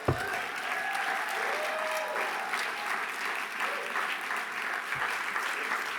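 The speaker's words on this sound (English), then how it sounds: "Let's give them a round of applause." An audience at a Sunday plenary luncheon applauds steadily for several seconds, giving a dense, even wash of clapping throughout.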